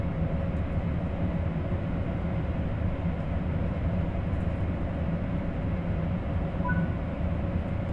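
An ICE high-speed train in Train Sim World 3 runs at speed on the Kassel–Würzburg high-speed line, a loud continuous rolling roar with steady tonal hum, unbroken and even for the whole stretch.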